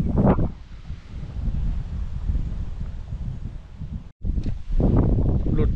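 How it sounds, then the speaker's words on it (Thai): Wind gusts steadily over a lake in Chaiyaphum, Thailand, during fishing from a small boat, a loud broad rushing roar buffeting the microphone with brief rustling bursts. "ลมก็โยกไปโยกมาเปลี่ยนทิศไปเปลี่ยนทิศมาอยู่นี่พี่น้องเลย"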